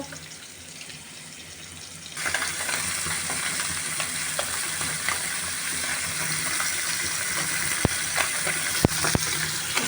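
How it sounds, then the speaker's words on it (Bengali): Small puti fish fry in a pan, a steady close sizzle that switches on abruptly and keeps crackling, broken by a few sharp clinks of a utensil. "আমি সবগুলো মাছ এভাবে বেজে নেব"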